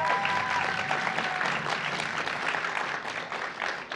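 A large audience claps steadily at a university graduate research competition finals, the dense applause holding at an even level for the whole stretch without talk.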